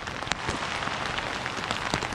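Steady rain falls on a planted field, a dense hiss of drops with scattered louder splashes, continuous and close.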